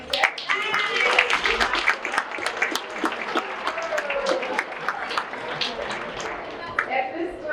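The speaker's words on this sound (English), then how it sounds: "Round of applause for coming and sitting." Diners at a varsity club sports banquet break into applause: a room full of clapping with sharp individual claps standing out, fairly close, with some voices mixed in underneath.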